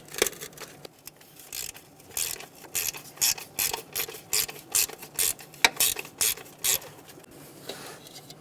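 Distributor cap bolts being loosened on a 1988-1999 GMC K1500 with a 5.7L V8, heard as a run of quick, evenly spaced ratchet clicks in short bursts, close and moderately loud, with no talking.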